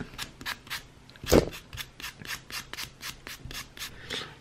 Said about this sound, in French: je viens passer un petit coup de bloc polissoir pour enlever les petits résidus